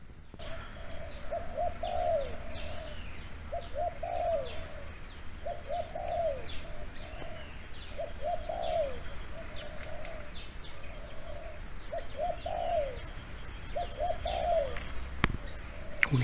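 A dove coos in repeated soft phrases at a steady rhythm, with occasional higher chirps from other birds in the background, moderately distant.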